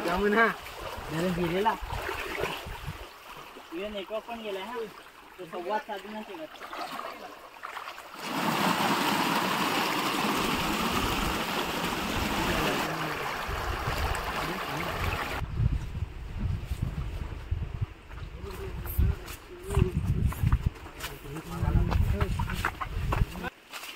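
Voices talk, then a long stretch of rushing, sloshing water as someone wades through a cold stream near Kalu Waterfall in Maharashtra, followed by more talk and splashing.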